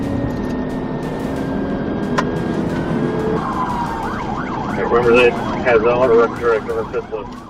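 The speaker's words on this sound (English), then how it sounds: "Schumett activated his lights and siren near the Geyer Springs Road exit." A police siren wails in rising and falling sweeps, growing louder over steady road and engine noise, with a brief yelp midway, during a Georgia State Patrol highway pursuit.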